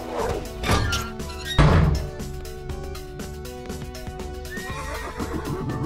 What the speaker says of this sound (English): Horse? Hey, man, is there a horse in...